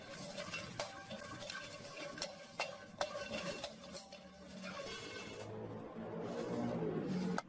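A spoon stirs fennel seeds and spices in a still-hot pan set aside off the heat for beef pho, giving a run of light scraping and clinking strokes that close up, then settle into a soft rustle.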